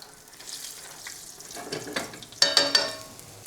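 Breaded chicken schnitzel frying in a pan, a soft steady sizzle that swells into louder crackling bursts near the end, with no talk over it.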